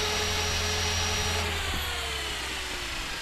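A 330-size RC helicopter hovers in to land with a steady high motor whine and a low rotor drone, the pitch easing slightly downward as it settles.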